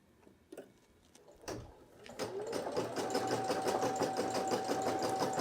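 A Brother PE800 embroidery machine starts up and stitches out a design, its needle settling into a steady, fast mechanical rattle with a faint whine that runs close and continuous after a few handling clicks.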